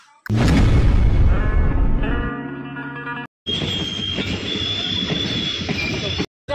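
A passenger train running on rails, departing Barua Bamungaon toward Dimapur: a loud, continuous rumble with metallic wheel squeal, broken by two short dropouts.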